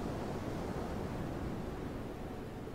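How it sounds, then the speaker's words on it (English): Ocean waves washing onto a sandy beach, a continuous broad wash of surf that stays steady and fairly loud throughout, with no voices. "Each and every time those waves come in and touches part of that sand castle"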